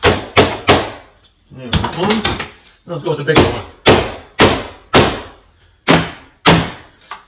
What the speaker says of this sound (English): We have 2 hammers. I'm going to hit it with both.